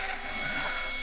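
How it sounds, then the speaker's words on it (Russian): A steady, rasping saw cutting sound in the horror game HEKTOR, close and loud, continuous and rising slightly over about a second with no talk. "А, но он сейчас меня пилит."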